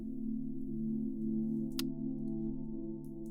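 A soloed grain texture from an electronic music track: a quiet, steady low droning hum with faint crackly grains and one brief bright click partway through, heard alone.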